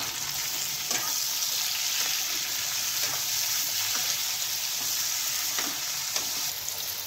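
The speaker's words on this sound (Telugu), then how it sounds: "యాడ్ చేసుకుని బాగా కలుపుకోవాలి" Eggplant, tomatoes and potatoes are stirred and fried in a pan, a constant close sizzle with light, regular spoon taps and scrapes throughout, no voices.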